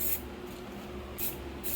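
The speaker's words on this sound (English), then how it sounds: "Spray some black down." Black spray paint hisses from an aerosol can in three short bursts, close and bright, with a quiet pause between the second and third sprays.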